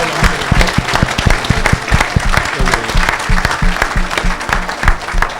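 Church congregation applauding during a charismatic worship service, steady loud clapping from many hands filling the whole stretch, with dense rhythmic claps and a busy crowd wash.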